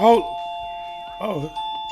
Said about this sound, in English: Somebody's ringing the OT doorbell